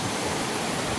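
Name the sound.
waterfall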